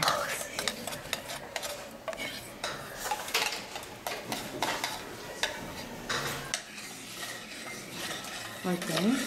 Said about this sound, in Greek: Πάρε και με το κουταλάκι το υπόλοιπο.